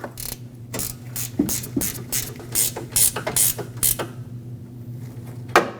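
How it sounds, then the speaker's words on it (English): A ratchet tightens the bolt securing the AC condenser to the radiator on a 2.5L Nissan Frontier, giving irregular runs of close, crisp clicks with brief pauses between strokes. "let's tighten up the bolt that secures the AC condenser onto the radiator"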